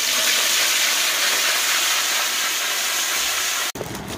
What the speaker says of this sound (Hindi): अभी हम ये वाले जो है काबुली चना, मूंग और बड़ी वाली छोली, इसको भी फ्राई करके ले लेते हैं